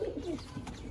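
Teddy pigeons from a breeding pair coo in low, soft, repeated phrases close by, with no talk over them.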